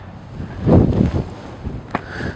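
Outdoor wind buffeting the microphone in low rumbling gusts, strongest near the middle, with a brief sharp rustle toward the end.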